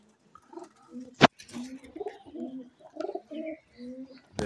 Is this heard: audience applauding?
no